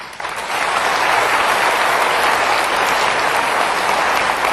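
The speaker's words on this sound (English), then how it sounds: "Give them a good clap." A seminar audience breaks into loud, sustained applause that swells quickly and holds dense and even, filling the room.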